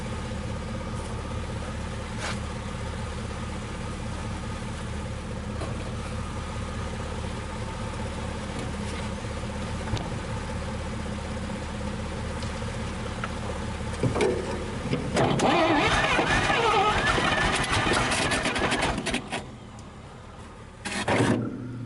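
A 1962 Dodge 100 truck engine running for the first time in 25 years, a steady low idle rumble that swells into a louder, rougher rev near the end before settling back, with no voices.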